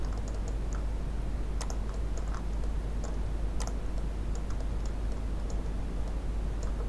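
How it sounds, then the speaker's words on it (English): Fingers tapping on a computer keyboard while drawing in Revit, with sparse, irregular clicks over a constant low electrical hum. "I'm going to select it and press BX on my keyboard for a"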